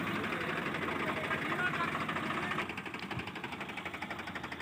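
Swaraj and Powertrac tractor engines run together while hitched to a rotavator, a steady rough drone with a pulsing beat that drops in level partway through and carries on.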